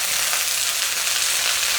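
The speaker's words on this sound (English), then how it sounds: "Sizzling, sizzling." Steady, close sizzling of salt and pepper chicken thighs frying in a hot pan, a continuous crackling hiss with no talking.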